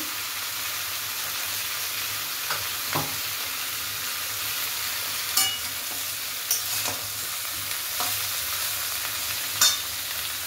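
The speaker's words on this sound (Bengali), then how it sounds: "এবার আদা বাটাটা ভালো করে নেড়ে চেড়ে ভেজে নেব।" Ginger paste fries in a pan with a continuous bright hiss of hot oil, while a spoon now and then scrapes and taps as it is stirred. No one speaks.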